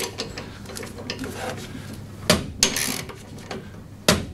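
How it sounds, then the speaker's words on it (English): A 17mm socket tightening a bolt on a Hyundai-powered P1PE P5100SPE lawn mower during servicing, with soft ratcheting clicks, a few sharp metallic knocks and clanks of the tool, close and fairly quiet. "So back up my 17mm socket. Just tighten that down."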